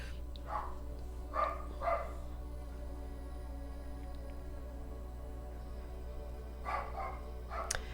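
A dog barks a few times in the distance, a pair of muffled barks early and another pair near the end, over a low steady hum.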